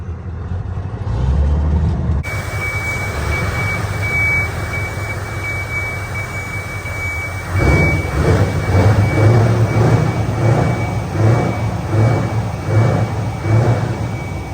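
A Scania 164 580 V8 truck, a restoration project, rumbles as it pulls out of a shed, its deep engine drone steady and close, swelling louder partway through with a faint high whine running on top.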